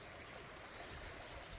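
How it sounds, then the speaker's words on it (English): The Buckenbarra River in Monga National Park, a small stream flowing steadily with an even, faint wash of water and no other sounds over it. "we're now at the river. It's the Buckenbarra River, beautiful little river."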